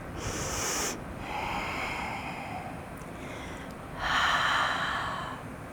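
A person holding a deep hip-opening yoga pose breathes audibly: a sharp intake, then a long steady exhale, another soft breath, and a stronger, fuller breath near the end, close and fairly quiet.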